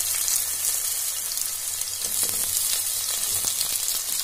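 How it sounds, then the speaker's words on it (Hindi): Boiled, softened potatoes frying in a pan, a loud continuous crackling sizzle with a few stirring scrapes late on. "आलू जो पहले हमने बॉईल किए थे वो अच्छी तरह से सॉफ्ट हो चुके हैं, उसको थोड़ी देर के लिए फ्राई करेंगे।"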